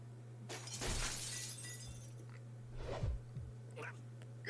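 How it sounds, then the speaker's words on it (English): Window glass shattering in the Fate/stay night visual novel game, a crashing burst of breaking glass followed by scattered smaller crunches and tinkles over a faint steady hum. "I go flying, shattering the window"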